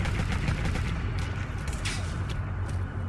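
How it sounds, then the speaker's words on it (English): Heavy minigun fire in Fallout 4, a dense, continuous roar of rapid shots at steady loudness with no pauses, muddied by a low rumbling background. "And you see the guy with the minigun? With the heavy minigun? Yeah, that's the culprit. That's the guy that was making so much noise."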